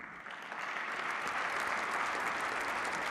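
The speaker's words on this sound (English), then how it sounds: "Let's clap hands for that." An awards-ceremony audience at the CAF Awards 2024 for African football bursts into steady, dense applause, many hands clapping loudly and evenly throughout without speech on top.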